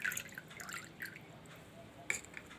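Lemon juice drips and trickles through a strainer in a quiet kitchen, a few soft, close liquid drops and splashes scattered over a couple of seconds.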